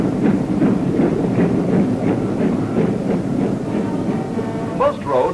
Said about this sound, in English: There are more trains on the tracks now